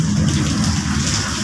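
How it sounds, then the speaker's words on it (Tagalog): Heavy rain pours down steadily on a seaside construction site, a dense, continuous roar of water hitting surfaces with no gaps or voices. "Ang lakas ng ulan."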